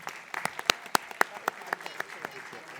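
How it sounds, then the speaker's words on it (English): Audience applauding for a startup showcase award winner, heard as a scatter of separate, fairly sparse claps over a low room murmur. "Can you please have a huge round of applause?"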